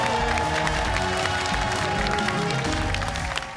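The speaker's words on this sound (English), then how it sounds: "Let's have a round of applause for both teams." An audience at a high school quiz match between Commonwealth and South High applauds both teams, a steady wash of clapping and some cheering from a crowd with a faint tonal backdrop.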